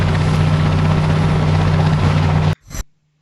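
A video game helicopter lifts off with a loud, steady rotor and engine drone, its deep low hum running continuously for about two and a half seconds before cutting off abruptly, followed by a brief whoosh.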